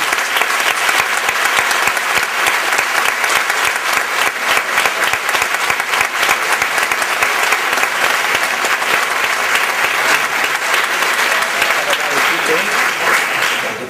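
Sustained strong applause from a crowd and a band at a brotherhood music event, a loud, dense and unbroken roar of clapping that carries on evenly for the whole stretch.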